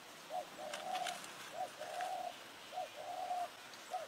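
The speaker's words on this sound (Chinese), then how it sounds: "斑鸠，斑鸠在上面不停的叫。" Turtle doves call repeatedly outdoors in rural hills, a soft rhythmic cooing in short phrases, faint and somewhat distant over quiet background.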